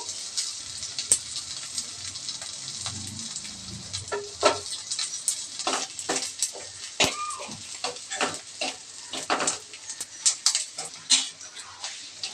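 Fish frying in a pan for a village-style meal, a steady bright sizzle running throughout with repeated clinks and scrapes of utensils against the pan, close and moderately loud.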